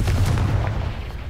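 An explosive Confringo spell going off in the video game Hogwarts Legacy, a loud, deep boom with a rumbling blast that fades out over about a second.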